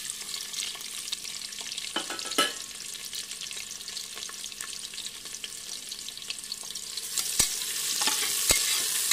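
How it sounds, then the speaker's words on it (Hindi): Onions frying and stirred in a pan for kali masoor dal, a close, steady sizzle with scattered sharp clicks and scrapes of the spoon, growing slightly louder toward the end, without talk. "अब हम ये प्याज डाल दे रहे हैं।"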